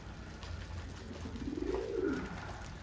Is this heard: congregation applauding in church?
no